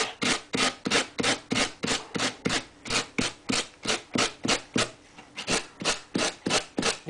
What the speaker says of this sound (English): you just want to rub around the edge, yes, until you rub through the material